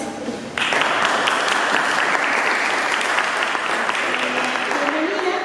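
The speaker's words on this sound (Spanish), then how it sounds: "quiero que le demos pues un aplauso al maestro Fernando Osorio" Audience applause for maestro Fernando Osorio at a photography talk, a few claps at first and then a sustained, dense burst of clapping after half a second that fills the room steadily to the end.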